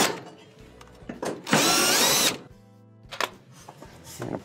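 A power screwdriver or drill backing screws out of the rear cover of a Whirlpool, Maytag or Kenmore stove range: a short whirring burst with clicks and handling knocks around it, close and alone.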